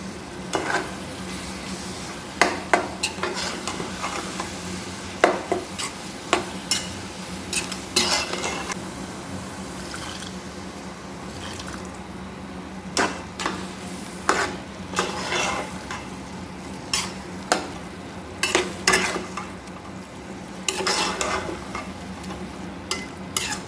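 A spoon scrapes and knocks against a pot while egusi soup with meat stock is stirred, irregular clattering strokes over a soft continuous simmer.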